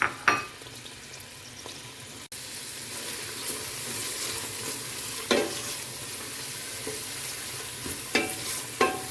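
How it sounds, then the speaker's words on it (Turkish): Carrots sauté in tomato paste in a pot for a soup: a steady, close sizzle runs throughout, with a few sharp scrapes and clinks of a spoon stirring. "havuçlarımı soteliyorum arkadaşlar"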